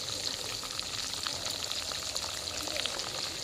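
Bombay duck fish pakoras fry gently in hot oil over low heat after being flipped, giving a steady, even crackling sizzle with faint scattered pops throughout.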